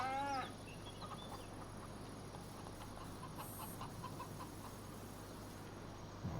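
Chickens cluck in a coop in Farming Simulator 25, faint scattered clucks and a short rising call at the start over a steady low hum of ambient noise, with no voices.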